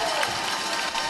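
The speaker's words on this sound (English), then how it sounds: "I don't know if you can hear this crowd, but it is absolutely nuts in here." Wild crowd cheering at the Tri Nations championship match between Great Britain and the USA, a loud, dense wall of roaring voices with no gaps over the short span.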